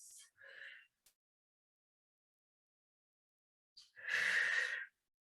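During a yoga session, a slow full inhale is followed by a long pause and then a strong, close, breathy exhale.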